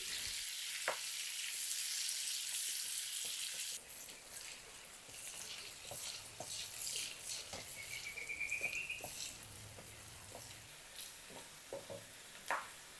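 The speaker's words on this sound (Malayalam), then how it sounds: "അരിഞ്ഞു വെച്ചിരിക്കുന്ന സബോള ചേർത്ത് കൊടുത്ത് ഫ്രൈ ചെയ്ത് എടുക്കണം" Sliced onions fry in coconut oil for chicken kondattam, a steady close sizzle with scattered pops and scraping clicks of stirring throughout.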